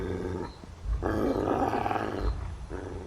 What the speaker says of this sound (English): The Doberman growls